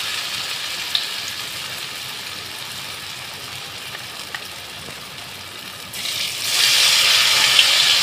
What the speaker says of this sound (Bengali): এবারে আমি এইভাবে সবগুলোকে ভেজে নেব